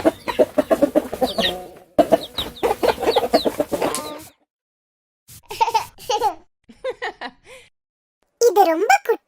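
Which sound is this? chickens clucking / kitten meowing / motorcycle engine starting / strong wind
chickens clucking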